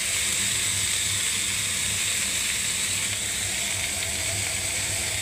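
Ivy gourd and potato pieces fry in hot oil, a steady loud sizzle that holds without a break and with no talk over it.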